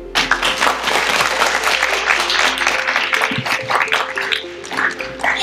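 Audience applause at an award ceremony for a "Czysta Ziemia" contest held at a county office in Biała Podlaska, dense sustained clapping with a steady musical tone running beneath it.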